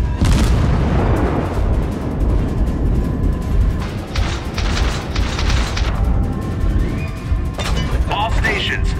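Naval artillery fire and shell explosions in World of Warships with an IJN Fubuki destroyer: loud, repeated booming blasts and crashing impacts rolling one after another over a heavy rumbling background.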